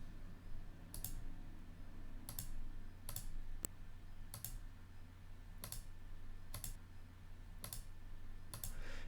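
Sharp, evenly spaced mouse clicks, about eight over several seconds, sound close and alone over a low steady hum while wires are placed in OrCAD schematic software.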